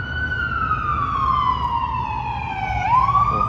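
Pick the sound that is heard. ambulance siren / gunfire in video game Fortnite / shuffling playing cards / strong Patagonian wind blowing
ambulance siren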